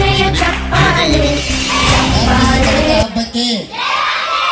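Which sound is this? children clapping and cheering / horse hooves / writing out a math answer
children clapping and cheering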